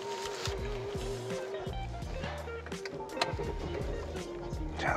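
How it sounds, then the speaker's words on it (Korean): A BMW X6 engine starts and settles into a steady idle, with a continuous low rumble running throughout at moderate level and no talk over it. "자 우렁찬 엔진 소리 요"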